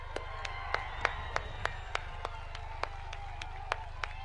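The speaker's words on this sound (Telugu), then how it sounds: "ఒక్క నిమిషం నాతో పాటు చప్పట్లు కొట్టాలని నేను కోరుకుంటున్నాను." A crowd at a public meeting in Tadipatri claps in unison, giving sharp, evenly spaced claps in a steady beat over a low background murmur.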